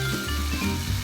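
Corn added to browned meat in a frying pan, a steady close sizzle and hiss lasting about a second, with no gaps and no voices.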